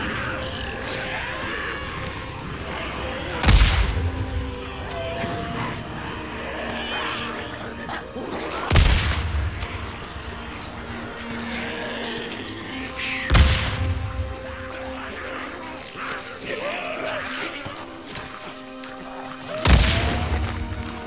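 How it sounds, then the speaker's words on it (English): Pipe bombs exploding during a horde fight at Sagebrush Point in the video game Days Gone, four heavy booms spaced several seconds apart over a continuous din of in-game noise and creature sounds. "I'm gonna have to switch to pipe bombs"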